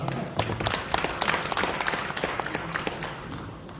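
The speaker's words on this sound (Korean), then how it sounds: "박수 한번 부탁드립니다." Audience applause at a church gathering of elders and their spouses, a dense spread of many hands clapping that fills the room steadily for several seconds before easing off slightly at the end.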